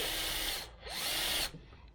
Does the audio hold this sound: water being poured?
no